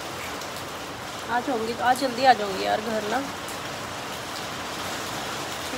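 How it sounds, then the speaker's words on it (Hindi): Heavy rain pours down in a steady, dense hiss throughout, while someone talks briefly in the middle. "बारिश कितनी तेज आ रही है, कितनी तेज हो गई है बारिश, आवाज़ सुनती।"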